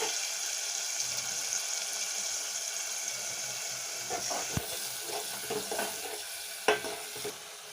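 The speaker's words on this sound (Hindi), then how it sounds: "दही डालकर इसमें भूनेंगे अच्छे से" Yogurt frying into a masala for lauki kofta curry makes a steady, close sizzle, with spoon scrapes and stirring clatters growing busier toward the end.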